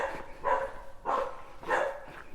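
A single dog barks three times in steady, evenly spaced bursts, fairly close and clear, while several other dogs stay quiet; no one talks.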